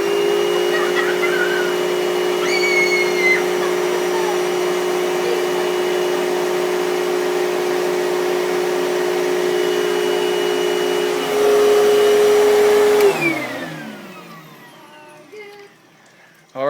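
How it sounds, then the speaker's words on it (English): A vacuum cleaner runs loud and steady with a strong whine, briefly surges, then switches off and winds down to near silence. "Turn that vacuum cleaner back on."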